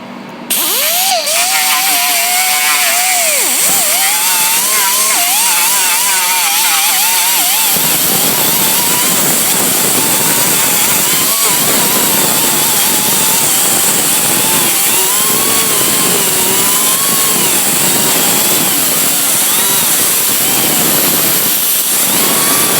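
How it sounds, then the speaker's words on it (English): An angle grinder sands down a fiberglass fender on a Chevy dually truck, a loud steady whine with gritty rasping that runs without break from start to finish and shifts slightly in pitch as the tool is angled against the surface. "As I'm sanding it down, I'm keeping the angle grinder in an angle"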